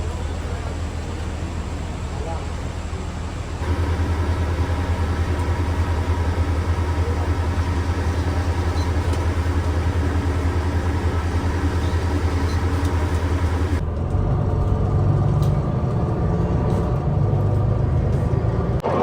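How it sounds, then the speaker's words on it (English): Bus rumbling steadily along a road from the airport in Muscat, a loud continuous engine drone and road noise that shifts to a lower, throatier tone near the end. "taking the bus from the airport"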